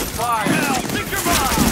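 Rapid bursts of gunfire from The Division, a third-person shooter game, crackle loudly and continuously under shouted voices.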